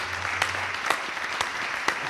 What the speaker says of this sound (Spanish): ¡Un aplauso para Bernal, hombre!